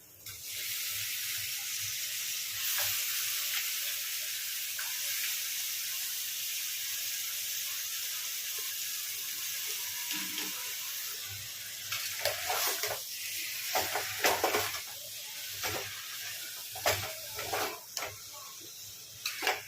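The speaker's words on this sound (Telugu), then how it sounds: "ఇప్పుడైతే శుభ్రం చేసుకున్న మటన్ అయితే వేస్తున్నాను" Cleaned mutton hits a hot pan with turmeric and sets off a steady, close hiss of sizzling. Over the second half, sharper clinks and scraping from stirring break through the frying noise.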